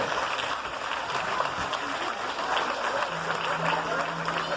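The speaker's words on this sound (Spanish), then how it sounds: "Venga ese aplauso." A crowd at an outdoor horseback cavalcade gathering applauds its hosts, a continuous wash of clapping with a voice and a faint sustained tone mixed in.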